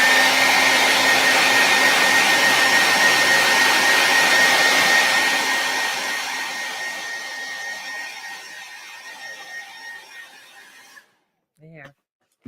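A hair dryer blows loudly and steadily across a small painting, then tapers off and cuts out near the end, followed by a brief rustle.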